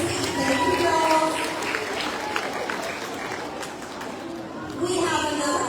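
A school assembly audience claps for students as they return to their seats, loud sustained applause that thins out midway, with a voice talking over it and again at the end.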